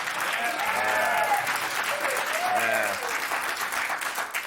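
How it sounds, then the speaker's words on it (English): Studio audience applause on a late-night TV talk show, steady clapping with scattered cheers and a voice or two rising over it. "They're applauding her."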